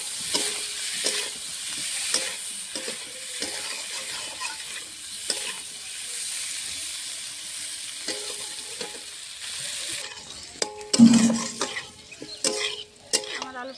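Boiled potatoes fry in a pan with salt and turmeric, a steady close sizzle broken by repeated scraping stirs, with a few louder pan clatters near the end.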